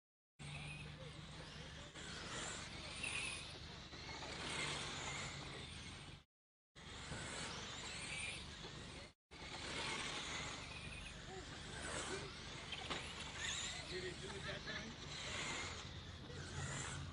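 Rubber tire late model race cars run a combined Veterans Day race on a dirt track, their engines a steady roar throughout, broken by two brief dropouts, with a loud announcer talking over the noise.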